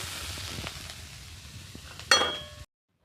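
Prawns frying in hot oil in a wok make a soft, continuous sizzle, then a sharp clink and a louder burst of sizzling before the sound cuts off.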